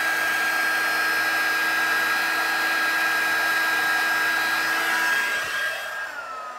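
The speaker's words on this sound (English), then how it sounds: "It goes a lot faster when your heat tool is all heated up." Heat tool blowing hot air over embossing powder, a steady loud whirring hum that holds evenly before easing down near the end, with no talk over it.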